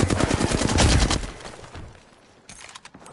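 Rapid bursts of video-game gunfire crackle loudly for about a second, then fade out. A few scattered shots follow in a quieter stretch.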